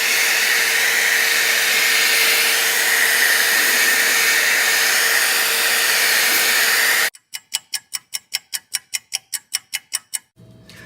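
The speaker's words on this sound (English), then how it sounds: "now I'm going to use a blow dryer to try and get this to speed up drying" Blow dryer drying aged, wet paper pages, a loud steady broadband whoosh with a faint hum that cuts off abruptly, followed by a rapid series of regular ticking clicks.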